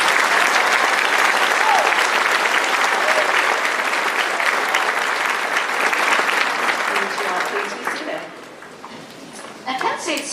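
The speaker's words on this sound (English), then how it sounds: "I'm supposed to ask you for a collective applause again for this amazing speech." A commencement audience claps loudly after a speech, sustained applause for about eight seconds before it thins out and gives way to a brief pause and a voice starting.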